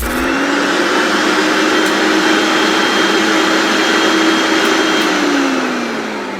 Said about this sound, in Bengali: আমি একটু আপনাকে এই ব্লেন্ডারটা চালিয়ে দেখাচ্ছি দেখেন